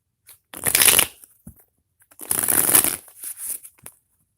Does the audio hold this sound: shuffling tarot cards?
yes